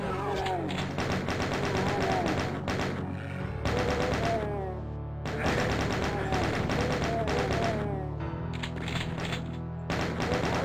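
Video game firefight in hallways against chaingunners and shotgunners: dense bursts of rapid automatic gunfire and heavier shots, broken by short pauses, loud and continuous over a steady game soundtrack.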